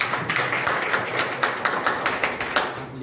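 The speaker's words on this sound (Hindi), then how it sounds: "हम लोग भी अपने आप को ताली बजा करके स्वागत करेंगे।" A women's self-help group at a meeting in Patna claps in welcome, a modest cluster of hands beating in a loose, fairly regular rhythm, quiet and close with distinct individual slaps.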